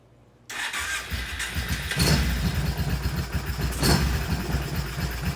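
A Kawasaki Brute Force 650 ATV engine cranks and catches with a sudden loud burst, then settles into a steady, rough, close-up idle with a couple of revving surges.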